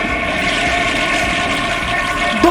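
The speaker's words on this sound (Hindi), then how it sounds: "Toilet flush." A toilet flush rushes loudly and steadily for a couple of seconds, a dense close hiss of water with no talk.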